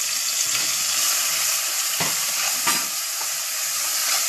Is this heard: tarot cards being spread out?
no